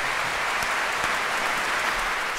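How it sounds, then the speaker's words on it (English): Audience applause at a World Peace Orchestra concert, a soft, even spread of many hands clapping in a hall, heard from some distance and sustained without talk. "let's give them a round of applause"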